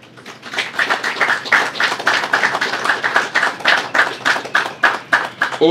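An audience gives a round of applause with distinct, close, rhythmic claps that build and keep a steady pulse to the end.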